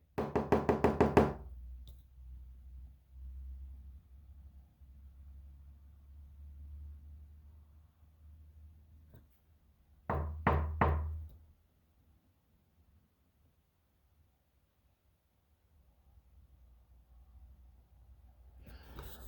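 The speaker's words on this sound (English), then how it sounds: "I just heard knocking again." Knocking inside an old house, with a quick run of loud close raps at the start and a second burst of a few knocks midway, separated by near-silence and faint low rumble.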